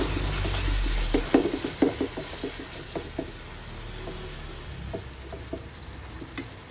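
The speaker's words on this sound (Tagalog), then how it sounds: "Pahaluin natin." Corned beef spaghetti sauce frying in a pan while being stirred, with a run of scraping, clattering strokes at first, then softer, scattered stirring knocks over a faint continuous sizzle.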